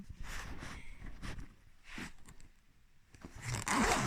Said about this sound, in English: Zip that all the way round, almost twice.